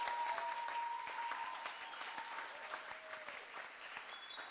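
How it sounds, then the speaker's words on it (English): Applause for creators from an audience, a steady wash of many hands clapping at a fairly low, distant level, sustained throughout with a faint tonal whine and a few voices underneath. "give a hand clap to all the creators that have come on so far"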